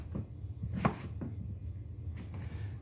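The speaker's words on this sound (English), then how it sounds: "chop the top off, cut them in half again, and boom, zucchini sticks." A knife chops zucchini into sticks on a cutting board, giving a few quiet, separate thunks with one sharper cut standing out over a low background hum.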